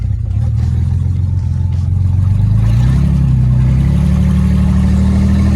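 An old, badly worn Mercedes-Benz with possible driveshaft, tyre or alignment trouble drives along with a loud, close, steady low engine drone that rises in pitch partway through as it accelerates.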